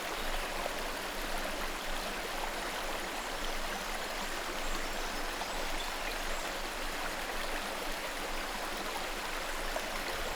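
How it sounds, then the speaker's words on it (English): Monsoon rainwater cascading down the slopes of the Western Ghats, a steady, dense rush of falling and flowing water that carries on unbroken throughout, with no voices. "Rainwater cascades from the Ghats."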